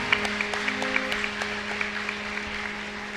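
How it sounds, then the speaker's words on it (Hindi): Scattered clapping from a gathering at a girls' camp session, fairly faint, with sharp individual claps standing out over a steady hum and a background tone. "ताली बजाते हुए"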